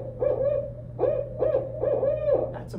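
Male barred owl hooting in a Georgia woodland at night, a series of about four rhythmic, rounded hoots in close succession, fairly near and clear with no talking.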